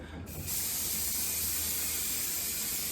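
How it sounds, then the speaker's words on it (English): Hairspray hissing from an aerosol can onto hair in one long, steady, close blast that starts after a brief pause and continues to the end. "The problem with hairspray is you can't reshuffle your hair around after you've sprayed it."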